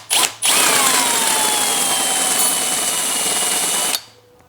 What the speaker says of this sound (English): You can only go through a slightly bigger drill bit. This is a 10mm